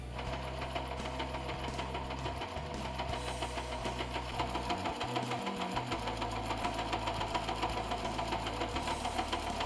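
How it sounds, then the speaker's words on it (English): A sewing machine set to a wide stitch runs steadily through a thick moving blanket, its motor humming with a fast rhythmic needle chatter close up, with short pauses for reversing. "Started off with a short stitch and then reversing it just to make sure it's tight."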